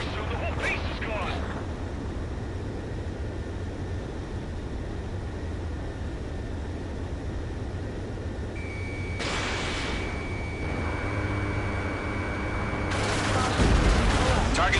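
Gunfire in an air raid in Ace Combat 7, with bursts of shots and aircraft noise against a constant low rumble of battle. Louder, denser fire swells toward the end.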